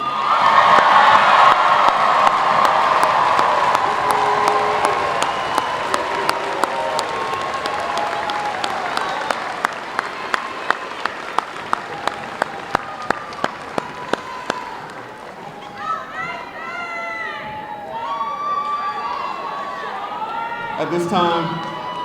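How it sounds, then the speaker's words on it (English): A large crowd applauds and cheers for high school graduates at a commencement ceremony, with sustained clapping and whoops, then a run of sharp, evenly spaced claps before the noise fades and voices rise near the end. "One more round of applause for our graduates."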